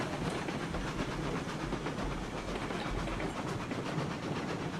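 A super heavy coal train strains along the rails in the railroad game RailRoads Online, a continuous loud rumble with steady clickety-clack and faint hiss, no talk over it.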